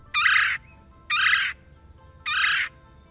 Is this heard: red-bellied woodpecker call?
yes